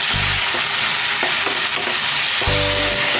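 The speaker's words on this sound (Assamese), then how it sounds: "এইখিনি এতিয়া ভাল কৰি ভাজিব লাগিব" Chillies and chopped tomatoes sizzle in hot oil in a pan for a chicken curry, a steady loud frying hiss with occasional scraping stirs and low clunks of the utensil against the pan.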